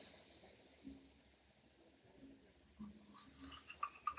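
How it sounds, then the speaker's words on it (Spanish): Toothbrush scrubbing teeth with coconut charcoal whitening powder, a close, quiet, rhythmic bristly brushing with soft wet strokes that grow slightly louder toward the end. "me voy a cepillar los dientes, ahí dice que por 3 minutos"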